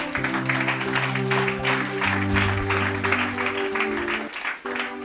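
Church congregation applauding, a dense sustained clatter of many hands with a steady musical drone underneath.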